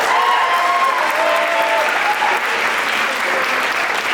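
Steady, loud applause from an audience at a winter and spring sports awards event, honouring two senior athletes, with faint talk under the clapping.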